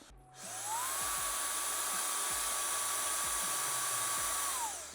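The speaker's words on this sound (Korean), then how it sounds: "빨아들이는 기능까지 있기 때문에 약간 좀 청소기 같은 느낌으로 빨아들이는 잉 소리가 난다" Vacuum suction steam iron drawing fabric in, a steady high whining hum that ramps up, holds evenly for several seconds, then winds down, fairly quiet and alone with faint clicks beneath.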